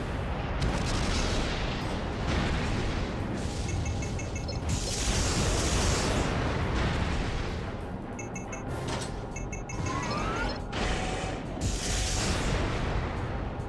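Missile explosions in the video game Armored Core: Nexus, a dense, continuous barrage of booming blasts and mechanical rumble that stays loud throughout, with sharp bursts layered over a constant roar.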